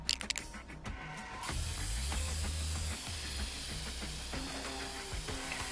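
Spray paint hisses in the Infamous: Second Son video game, a long, steady spraying hiss beginning after a few brief clicks and running on under faint mechanical game sounds.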